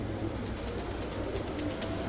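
Pigeons of a pair offered for sale coo softly in a continuous low murmur, with the constant hiss of a busy outdoor setting behind them.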